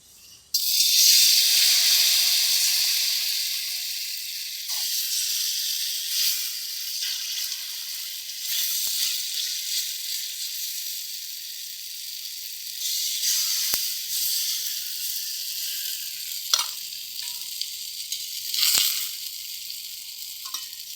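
Paratha batter sizzles steadily while frying in a kadai, a dense, bright hiss that holds for the whole stretch, with occasional soft clicks and pops from the pan; no one speaks.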